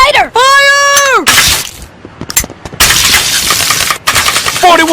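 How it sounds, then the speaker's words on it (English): Rapid cartoon police gunfire, a long loud volley of many shots in several bursts, with a shrill whistling tone at the start and yelling mixed in. "41 shots to put out a cigarette?"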